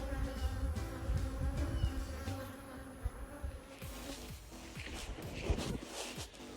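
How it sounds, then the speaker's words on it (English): A dense, steady buzzing of many honey bees swarming close by, continuous throughout with occasional louder passes. "The bees were going wild"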